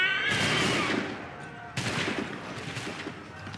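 Two loud musket volleys crack out in Assassin's Creed III's Battle of Lexington and Concord, each a sharp massed blast followed by a rolling, fading echo.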